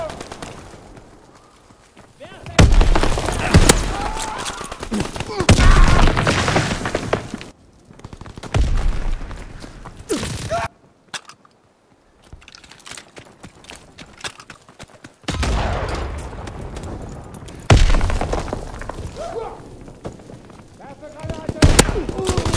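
Bursts of gunfire and booming blasts from the video game Call of Duty: WWII come in loud waves, separated by brief quieter gaps, with shouting voices mixed in.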